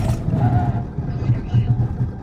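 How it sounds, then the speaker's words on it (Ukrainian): A Peugeot hybrid car's engine hums low and uneven as it brakes on asphalt, a close rumble with pulsing swells, partly under a voice. "Двигун прикольно звучить."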